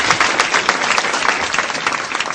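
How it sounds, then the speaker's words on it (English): A quiz show audience applauds a contestant with dense, loud, continuous clapping from a sizable crowd, steady across the short span without any speech. "Big round of applause to him"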